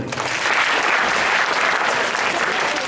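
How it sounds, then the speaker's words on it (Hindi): Audience applause at a motivational talk, a dense and steady wash of clapping from a large crowd that holds at an even, fairly loud level for about three seconds. "एक बार इनके लिए भी ताली बजाओ।"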